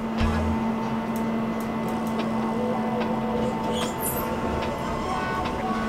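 Steady low hum and mechanical drone of an elevator ride aboard the Independence of the Seas cruise ship, with faint clicks and brief soft sounds over a constant tone.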